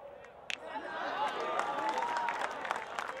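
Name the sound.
spectators applauding at a cricket match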